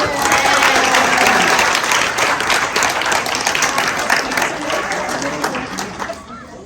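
A luncheon crowd at a LULAC awards event breaks into loud applause with some cheering, dense clapping from many hands that gradually softens toward the close.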